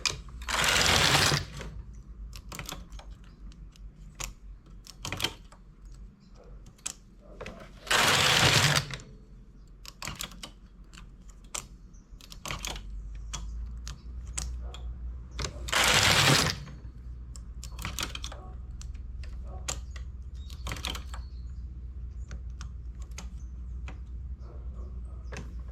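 A knitting machine carriage runs across a row with a loud, rushing mechanical clatter three times, each pass lasting about a second. Quieter clicks and taps of needles being moved fill the gaps between passes.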